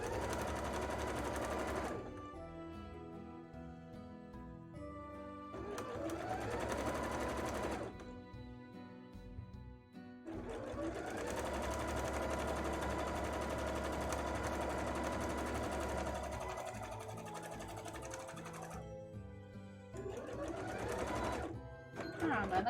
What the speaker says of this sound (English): let's do our second row of stitches